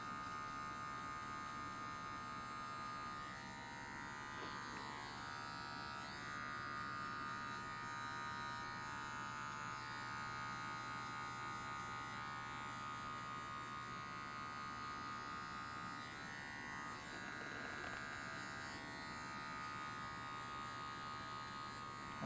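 Electric hair clippers buzz steadily and close up, working alongside a comb while cutting a skin fade, a continuous motor drone with slight shifts in tone as the blade moves through hair.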